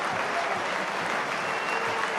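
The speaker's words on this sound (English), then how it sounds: "Hadley getting sympathetic applause from the crowd in the main stand as he leaves the field" Sustained applause from spectators in the main stand at a Hull KR versus London rugby league match, a steady dense clapping that holds evenly throughout with no break.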